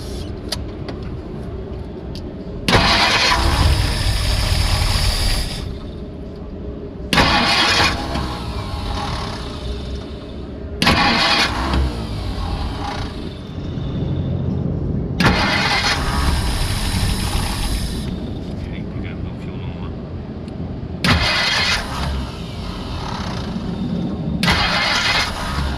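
A 1959 Ford Galaxie engine, restarted after more than ten years, runs on its own in a loud, steady rough idle, with several sharp surges where it is revved up again, and no talk.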